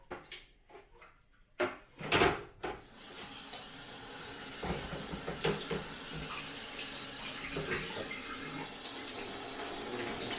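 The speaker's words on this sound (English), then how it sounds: "I'll just give that a rinse under the tap." A dishwasher filter is rinsed under a running kitchen tap. A few sharp splashes and knocks come first, then a steady close rush of water flows for the rest of the time, with no voices.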